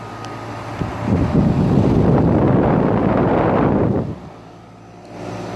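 A 2008 NuTone 2.5 ton central air conditioner unit runs outdoors, a broad steady whooshing fan roar that swells up and holds for a few seconds before dropping to a quieter hum.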